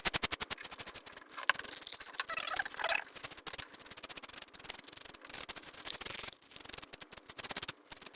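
Hand sanding with 240-grit sandpaper to scuff blue and white paint on a mahogany piece, a close, quiet rhythmic back-and-forth rasping that continues steadily throughout.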